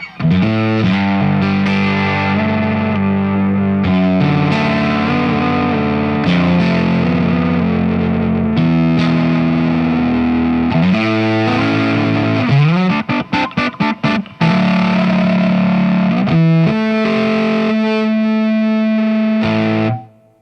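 A heavily distorted electric guitar plays sustained chords and bends through effects, with a fast choppy stuttering passage midway, loud and continuous until it abruptly stops.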